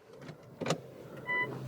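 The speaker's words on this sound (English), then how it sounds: "Putting the car into reverse" Toyota C-HR Excel shifted into reverse inside the cabin: a soft mechanical clunk midway, then a short, clear electronic beep tone near the end over a quiet interior hum.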